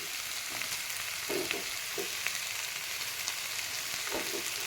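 Dried red chilies frying in hot oil with chili powder, turmeric and asafoetida, a steady close sizzle with soft stirring scrapes now and then, no voices.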